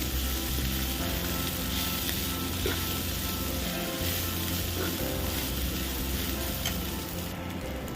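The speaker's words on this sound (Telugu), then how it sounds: "కొంచెం కరివేపాకు, ఇలా పుదీనా, కొత్తిమీర, కరివేపాకు అన్నీ వేసుకొని బాగా వేయించుకోవాలి." Curry leaves, mint and coriander frying in hot oil, giving a continuous dense sizzle with faint stirring scrapes throughout, close and steady, with no speech.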